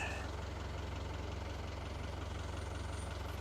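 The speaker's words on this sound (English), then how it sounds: "It's not really good to run a diesel engine without a load on it." A boat's diesel engine idles steadily while warming up before being put into gear, a low, even, rhythmic throb that holds constant and close throughout with no talk over it.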